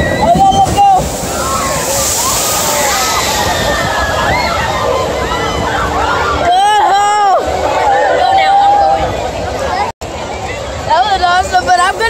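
Water sloshes and splashes around a boat ride at a Six Flags theme park, loud and continuous, with crowd chatter and excited voices and shrieks over it.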